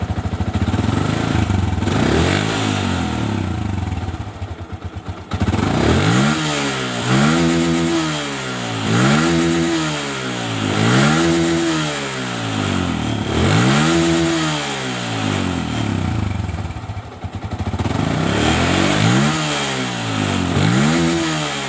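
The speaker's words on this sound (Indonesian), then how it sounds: "Nah, di sini posisi sepeda motor ini saya geber gasnya" Fuel-injected Yamaha Vixion motorcycle engine, parked on a block, revved repeatedly in a steady rhythm of about seven throttle blips that each rise and fall, loud and close over a constant idle.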